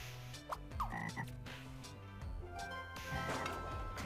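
Cartoonish frog croaks from the Scribblenauts video game repeat over a steady game soundtrack, with several short croaking calls spread across the clip and no speech.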